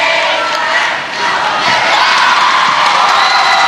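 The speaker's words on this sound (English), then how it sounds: "an enthusiastic cheer squad behind the attacking end for Malaysia" A cheer squad behind the attacking end for Malaysia cheers at a SEA Games 2017 netball semi-final against Brunei, a loud continuous crowd roar of shouting and whooping with a brief dip before swelling again.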